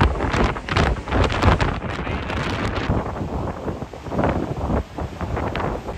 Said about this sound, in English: cold, it's super windy.